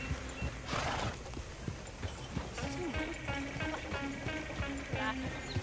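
Hooves of a horse-drawn coach in Red Dead Redemption 2: a steady clip-clop trot with wheel and harness rattle, moderately close, continuing under voices speaking throughout.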